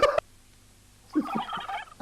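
A turkey gobbles in a quick, warbling burst of rapid notes, fairly close, between short sharp sounds at the start and end.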